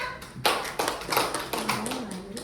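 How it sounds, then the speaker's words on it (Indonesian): Children in a classroom clap for a classmate, several bursts of close hand claps in a loose rhythm, with a brief voice faintly underneath. "beri tepuk tangan untuk temannya"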